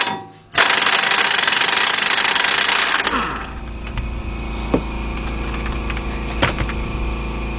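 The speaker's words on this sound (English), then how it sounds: "then get our air gun" Pneumatic air impact gun removing rear brake parts on a 1993 Ford F700 truck, a loud close rattling burst of about two and a half seconds, then compressor hum and occasional metallic clinks in a shop.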